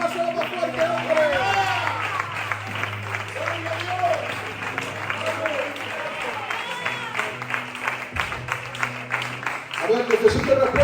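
Sustained applause from a church congregation fills the room, mixed with voices talking and shouting over the clapping, with a swell near the end.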